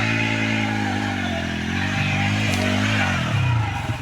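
A motorcycle labours uphill on the road near Baramura waterfall in Tripura, its engine a steady, close, loud drone whose pitch climbs toward the end as it strains.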